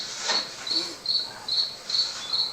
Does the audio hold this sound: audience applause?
no